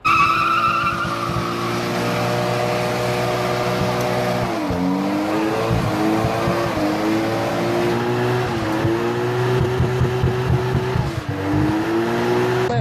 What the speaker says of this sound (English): Did a massive skid for my mate last night for his birthday.